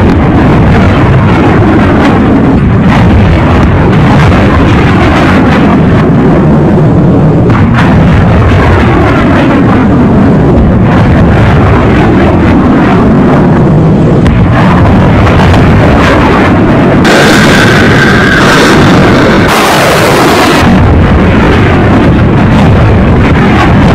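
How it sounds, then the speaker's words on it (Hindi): Iranian missiles strike a US military base in Qatar, producing heavy, loud explosions and rumbling blasts, with a series of booming impacts that follow one after another over a dense, roaring background. "आधा दर्जन से ज्यादा मिसाइलें कतर में मौजूद अमेरिकी सैन्य बेस पर दाग दी"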